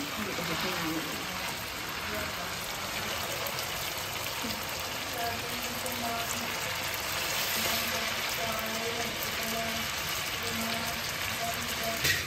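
Meat sizzles and fries in a pan for pickle with garlic and ginger nearby, a steady crackling hiss with occasional stirring clatter, under quiet background talk.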